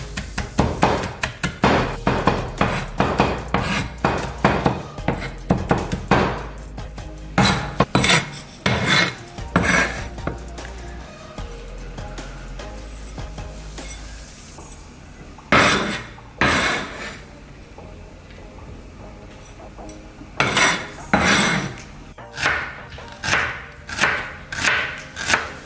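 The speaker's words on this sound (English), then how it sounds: "I'm chopping more garlic so that I can use it to make my caramelized shrimp and my fish sauce" Garlic being chopped with a knife on a board for caramelized shrimp and fish sauce: rapid, loud, close chopping taps in long runs, broken by short pauses and a few slower cuts.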